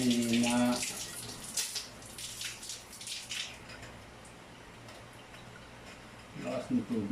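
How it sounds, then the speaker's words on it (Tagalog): Water runs steadily from a newly installed exposed shower valve connected to a water heater, a moderate hissing flow with brief louder bursts at the start and end. "Lakas ng tubig."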